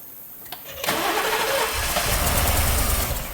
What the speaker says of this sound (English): I'm going to go crank it over.